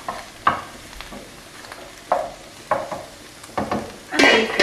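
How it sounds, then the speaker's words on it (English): Mushrooms and garlic being stirred in a big pan, with a steady low sizzle broken by about six distinct scraping, clattering strokes of the spoon, the last one longer and louder; close and clear, with no talking. "Now for a few minutes, stir the mushrooms and garlic."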